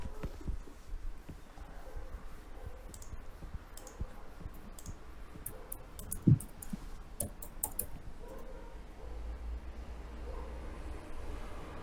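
Someone types on a computer keyboard, giving steady, close, irregular clicking keystrokes with a few sharper taps and no talking.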